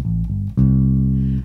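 Electric bass guitar playing the opening notes of a riff: deep, round, sustained notes, loud and close, stepping in pitch partway through with nothing else playing.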